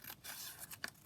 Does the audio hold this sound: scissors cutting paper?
yes